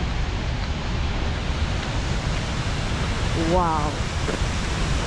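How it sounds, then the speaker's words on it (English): Steady, loud broadband roar of Skogafoss waterfall in Iceland, heard up close from the walkway, filling the whole clip with a brief voice exclaiming over it. "getting closer to the waterfall right now"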